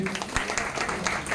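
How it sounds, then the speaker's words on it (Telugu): A crowd claps in a dense, continuous patter at moderate distance at a wedding celebration, with voices mixed in underneath. "గట్టిగా చప్పట్లు కొట్టండి."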